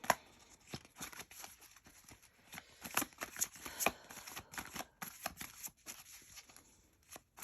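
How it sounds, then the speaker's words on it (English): A deck of cards being shuffled over and over for a tarot-style reading, a run of crisp riffling bursts and soft slaps in an uneven rhythm, close and quiet with no talking. "Again, I'm still shuffling."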